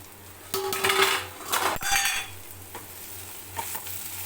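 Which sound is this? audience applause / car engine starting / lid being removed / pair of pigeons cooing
lid being removed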